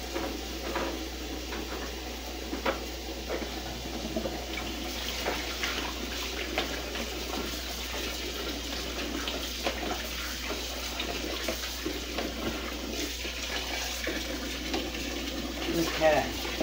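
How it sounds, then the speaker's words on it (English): Cold tap water runs into a pot in a home kitchen, a faint, steady splashing flow with light clinks, low in level throughout. "Put some more cold water in there."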